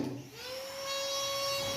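A small rotary cutter spins up with a steady high whine while the sprue is cut off a Valplast bruxism splint, the tone rising slightly and then holding close and constant.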